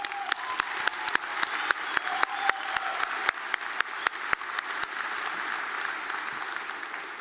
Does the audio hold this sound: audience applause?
yes